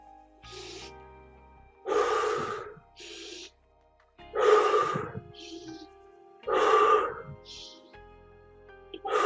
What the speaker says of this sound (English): try to do very deep inhales very quick, deep exhales very quick.